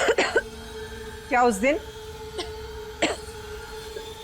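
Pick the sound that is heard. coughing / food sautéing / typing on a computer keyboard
coughing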